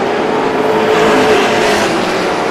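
Stock race cars roaring to the checkered flag, a loud, dense engine roar that holds steady throughout, with a faint pitch sweep as cars pass close by.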